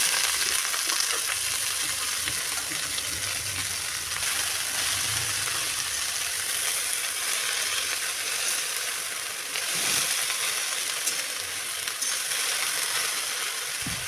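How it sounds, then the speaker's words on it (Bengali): Chopped bottle gourd leaves hit hot oil with fried garlic, black cumin and green chilli, sizzling steadily while occasional scrapes and stirring knocks sound through the constant hiss, close and uninterrupted by voices. "ভাজা হয়ে গেছে, দিয়ে দিলাম কেটে রাখা লাউ শাক"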